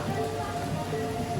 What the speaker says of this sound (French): Il pleut les amis, mais genre beaucoup.